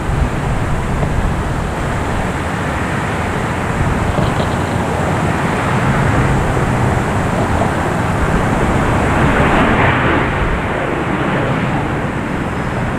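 A Southwest airliner at Boston Logan airport, a loud sustained jet engine roar swelling toward the end, heard from outdoors without talk.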